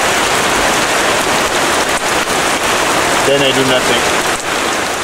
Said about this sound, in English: I waited for the rain to stop